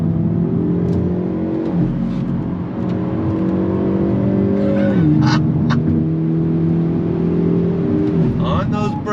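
A 2022 Hyundai Elantra N engine revs loudly from inside the cabin while driving, with rising pitch through the gears, a drop at a shift, and brief exhaust crackles near the end.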